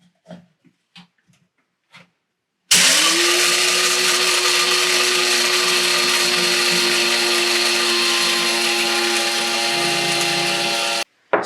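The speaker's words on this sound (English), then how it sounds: "grind all the beans in this coffee grinder I have" A few faint clicks, then a loud, steady electric grinder whirs for about eight seconds grinding 32 grams of coffee beans, its pitch settling as the beans break down, before cutting off.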